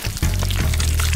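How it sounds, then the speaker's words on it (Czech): Honey is poured over berries in a bottle in a kitchen, a loud close wet gurgling stream that runs continuously through the short moment without any talk. "Bobule jenom zaliju medem."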